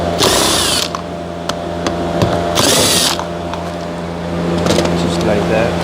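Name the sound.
power drill removing bolts on Infiniti QX60 door mirror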